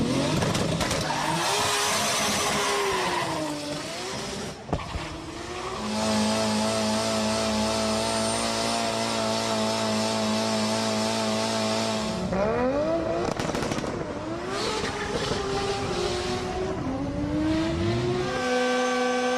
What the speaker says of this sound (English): is tuning a car on the street at the drags